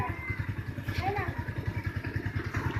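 A motorcycle engine idles nearby with a steady, pulsing low throb and some clatter, while a voice rises faintly over it near the middle.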